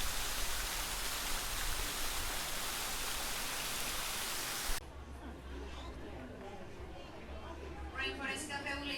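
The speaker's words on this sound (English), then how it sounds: "I'm just sitting out here watching waterfalls." Waterfall outside the Animal Kingdom entrance, a loud, steady rushing wash of falling water that cuts off abruptly partway through, leaving quieter background with distant chatter.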